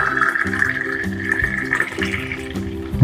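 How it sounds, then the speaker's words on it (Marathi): Lassi poured into a glass in a home kitchen, a steady liquid pouring and filling sound running the whole time under background music. "आता लस्सी ग्लासामध्ये ओतून घेऊया"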